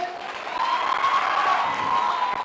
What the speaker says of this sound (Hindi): पवन सर के लिए एक जोरदार तालियां हो जाए।